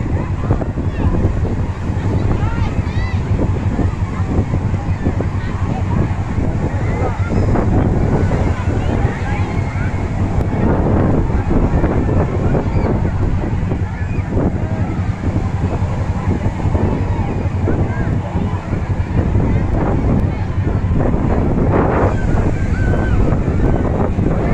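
Cool sea breeze and surf at Dwarka beach, with steady loud wind rumble buffeting the microphone over continuous breaking waves, and faint voices in the background.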